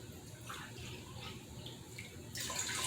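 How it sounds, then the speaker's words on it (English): White distilled vinegar poured into a jalapeno pepper brine, a steady liquid splash and trickle throughout, growing louder and brighter near the end. "I'm going to go ahead now and add in my 2 cups of white distilled vinegar"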